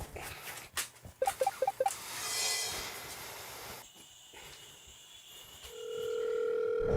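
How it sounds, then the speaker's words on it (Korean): A telephone signals an incoming call with a quick series of short electronic chirps, followed later by a sustained electronic tone over a quiet room background. "남의 편 전화가 오네요."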